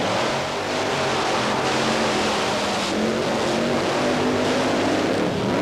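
Monster trucks Equalizer and Wild Hare race side by side at a Myrtle Beach, South Carolina event, their engines producing a loud, continuous roar that holds steady throughout.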